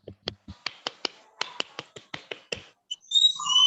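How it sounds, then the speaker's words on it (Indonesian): Sharp, crisp hand claps from a Pramuka scout group ring out one by one in a clear rhythmic pattern, evenly spaced with small pauses, followed by a brief high whistle-like tone at the end. "Tepuk pramuka itu gini."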